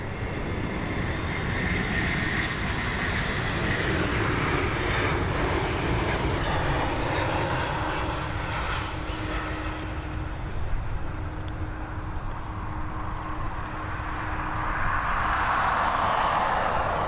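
An airliner lands on runway 10R at Dublin Airport, its engines a continuous loud roar with a rushing broadband wash that swells and shifts for the whole stretch, heard from outside with no talk.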